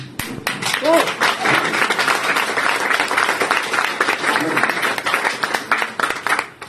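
An audience at a business training seminar claps in dense, sustained applause lasting several seconds, with a brief voice heard near the start over the clapping.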